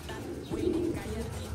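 An older pigeon gives a short, low, throaty coo close by against a steady background hum, with a faint voice nearby.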